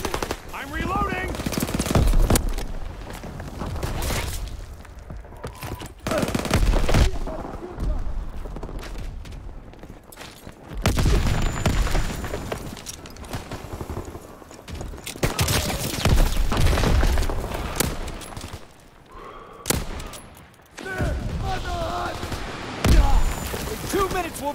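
Machine gun fire in the video game Call of Duty WWII, rapid bursts and scattered booms recurring throughout, with voices shouting amid the combat.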